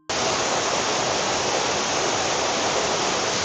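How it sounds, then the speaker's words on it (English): A waterfall in the hills of Nepal, a loud, steady, broadband roar of rushing water heard close up, constant and unbroken throughout with no other sounds. "This is the waterfall that we came."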